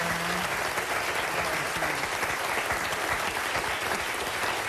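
A studio audience claps steadily in a dense, even burst of applause filling the room, no voices over it.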